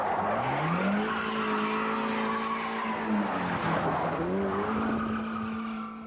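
A stolen car being joyridden skids hard, its tires squealing in long, wavering tones over a loud, continuous engine roar that lasts the whole stretch.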